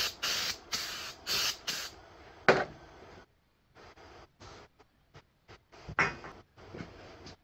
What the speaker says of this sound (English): usually I just take some brake clean, spray it on there